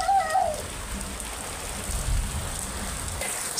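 Rain falling in a village during outdoor cooking, a steady broadband hiss of drops on surfaces, close and even throughout, with a brief high chirp at the start.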